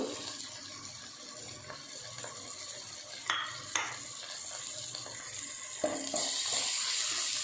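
Ginger garlic paste, mint paste and turmeric are stirred into frying chicken in a pan, giving a soft continuous scrape and sizzle with a few sharper clinks of the spoon, fairly quiet and close, with no talking.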